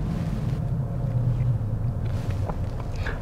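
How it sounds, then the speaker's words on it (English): Steady road traffic rumbling past on a street, continuous low engine and tyre noise from several passing cars with some wind buffeting on the microphone, no talking. "Look at all this traffic."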